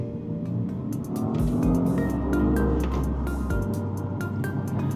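A Volvo S60 R-Design pulls away at full throttle on a straight road, its engine note swelling and rising steadily in a loud, close drone heard from inside the car.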